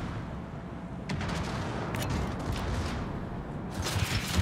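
Naval gunfire in the World of Warships video game: a few booming shots break through a steady rumbling background, with a louder burst near the end.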